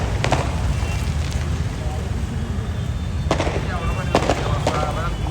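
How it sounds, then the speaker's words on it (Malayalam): Fireworks at the Chalakudy church festival go off in scattered sharp cracks and pops over a steady crowd rumble, a few bursts clustered near the start and later, moderately distant. "വെടിക്കെട്ടിന്റെ സൗണ്ടൊക്കെ കേൾക്കുന്നുണ്ട്"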